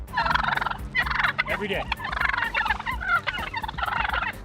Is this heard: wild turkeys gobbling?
yes